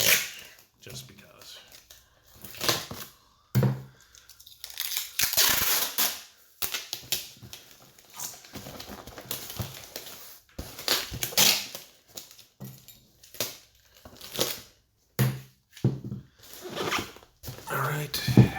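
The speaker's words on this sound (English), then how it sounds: "So I'm probably gonna throw on like 3-4 layers of tape on it, just because." Packing tape is pulled and pressed in several layers onto a damaged cardboard box flap, giving repeated loud, close ripping screeches in short irregular bursts with brief pauses between them.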